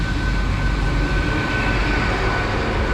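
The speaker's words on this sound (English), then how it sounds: "Okay, here's our train." A train, unit 800-020 running to London Paddington, rumbles into a station platform in Gloucestershire, a loud continuous low mechanical roar with a steady hiss and a faint tonal whine.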